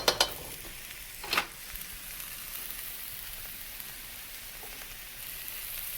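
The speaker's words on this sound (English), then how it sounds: "And I'm going to go ahead and add the cabbage now." Cabbage and carrot mix hitting a hot pan for mu shu chicken, giving a brief clatter then a steady, soft frying sizzle that continues alone.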